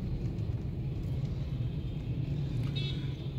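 Steady road traffic on a busy town street at school closing time: a constant low engine rumble from passing cars and vehicles, fairly faint and continuous, with a brief higher tone near the end.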